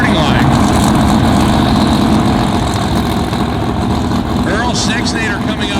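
Drag racing cars idle loudly at the starting line of a street-car racing event, a rough, steady engine rumble that fills the whole stretch, with a faint announcer voice near the end.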